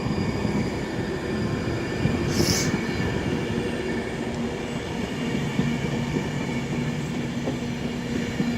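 Class 390 electric train moving through Crewe station, a steady loud rumble of wheels and traction noise with a brief high squeal, no talking.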